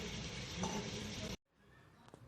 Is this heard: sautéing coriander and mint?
yes